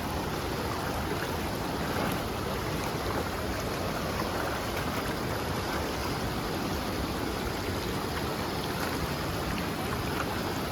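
A fast-moving river current runs steadily past broken chunks of concrete, a constant broadband rush of flowing water with no breaks and no voices over it.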